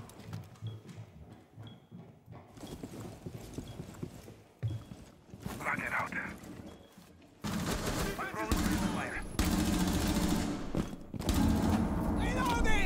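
F2 assault rifle fire in the video game Rainbow Six Siege, rapid automatic bursts growing louder and denser toward the end, mixed with thuds and footsteps, while a player speaks over it.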